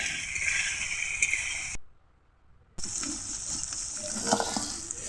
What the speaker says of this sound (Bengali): মাংসটাকে ভালোভাবে কষে নিতে হবে যতক্ষণ না তেলটা ছাড়বে